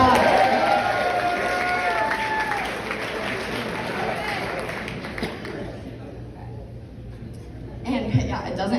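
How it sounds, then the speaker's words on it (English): Guests at a toast break into a round of applause and cheering, a dense wash of clapping with voices mixed in that gradually thins and fades toward the end. "Yeah, round of applause."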